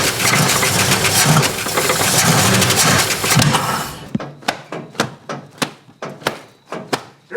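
A Plymouth Duster 340 V8 that sat for 30 years cranks over, first a loud continuous grinding churn, then a run of separate rhythmic starter thumps as the engine turns without catching.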